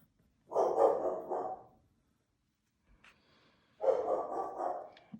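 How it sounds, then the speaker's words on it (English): A pet dog indoors lets out two separate bursts of rough, close barking, each lasting about a second, with a quiet pause between them. "I apologize for my dog barking"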